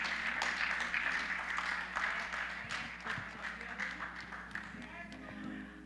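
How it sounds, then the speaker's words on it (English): Church congregation at a Sunday morning service applauding, a steady wash of clapping hands sustained for several seconds at close-to-medium distance, with a low hum underneath. "Let's give Sister Tremaine a round of applause one more time."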